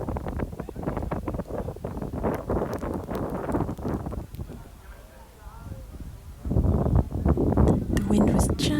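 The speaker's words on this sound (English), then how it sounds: "The wind was just slightly better at this pyramid, but still very windy." Strong wind gusting across the open desert at the Pyramids of Giza, buffeting the microphone in loud, roaring waves that ease briefly before surging again; no talking.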